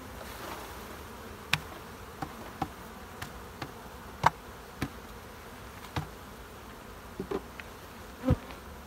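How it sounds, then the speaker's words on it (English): Honey bees buzzing around an open beehive during hive work, a steady close hum with sharp knocks and clicks of handling equipment scattered throughout. "I'm going to have bees everywhere here in a minute"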